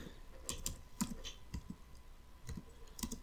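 Someone types on a computer keyboard, with soft, close, irregular clicks and short bursts of keystrokes in a quiet room.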